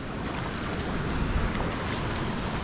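Rough, churning sea surf at Cachadaço beach in Trindade, a steady broadband roar of breaking waves with wind buffeting the microphone, continuous and fairly loud throughout with no talking.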